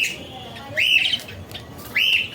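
Pet birds loose in a room give a few sharp chirps and whistled calls, two clear bursts close by over quiet background noise.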